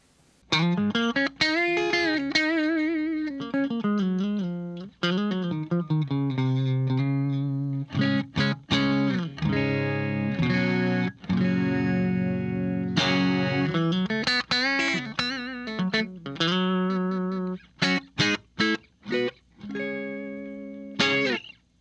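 An electric guitar, a Telecaster on its middle pickup position, with a clean, rounded tone plays a long run of melodic phrases and chords, ringing notes alternating with crisp picked stabs.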